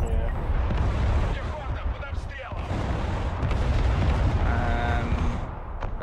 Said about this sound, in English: He's got two sets of artillery up now